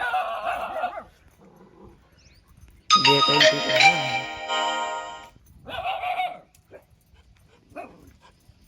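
A dog barks loudly in a short burst, with a shrill whine-like tone among the barks, followed by a few quieter barks and brief voices.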